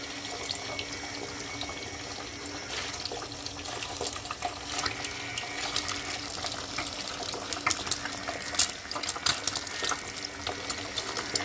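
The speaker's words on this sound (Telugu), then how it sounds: "ఆయిల్ అయితే బాగా హీట్ ఎక్కింది కదండి ఇంక మనం బీట్ చేసుకున్న ఎగ్స్ ఉన్నాయి కదా అది వేసుకున్నాం" Beaten eggs fry in well-heated oil for a noodle dish, giving a continuous crackling sizzle with scattered pops that grow slightly busier toward the end.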